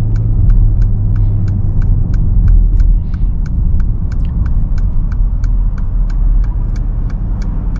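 A steady low engine rumble from a 2017 Mercedes GLS63 AMG cruising at night, heard from inside the cabin, with a faint regular ticking, likely the turn signal, running through it.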